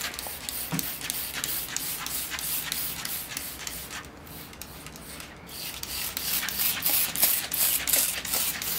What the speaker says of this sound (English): So I'm going to spray it with soap and water, try and get rid of those.